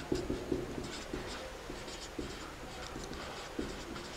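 Chalk or a marker scratches across a board during a Class X trigonometry lesson, giving short, faint strokes and taps in an irregular rhythm, heard alone and fairly close.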